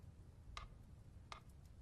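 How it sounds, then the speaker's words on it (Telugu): A clock ticks faintly in a quiet room, two crisp, isolated ticks spaced under a second apart against low background hum. "ఈ టికింగ్ శబ్దం వినపడుతుందిగా"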